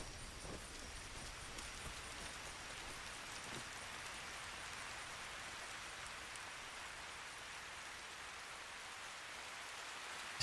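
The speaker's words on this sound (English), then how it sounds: "it's raining now." Steady rain pours throughout a rainy scene in the video game Metal Gear Solid Delta, a dense even hiss of drops falling on surfaces with a few faint low thuds underneath.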